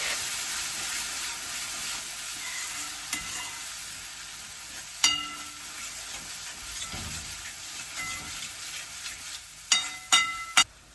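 Masala made from onion, garlic and chilli fries in a pan as it is stirred, with a soft ongoing hiss and scattered scraping clinks of a utensil, a few sharper knocks toward the end; no talking.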